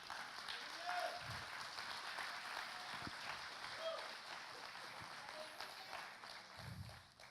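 Church congregation applauding during a sermon, a steady wash of clapping that fills the hall and stays at an even, fairly quiet level throughout.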